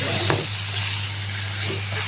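Vegetables and aromatics sizzle and crackle steadily in a hot pan, with a low constant hum underneath and a few soft scraping stirs.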